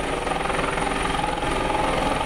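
A rescue helicopter hovers over a flooded area, its rotor and engine producing a loud, steady, continuous chopping roar throughout with no voices.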